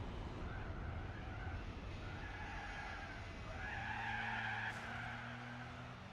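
A Lancia Stratos races at Laguna Seca in Gran Turismo 4, its tires squealing and skidding through a corner over a steady engine drone, fairly faint and continuous, with no speech.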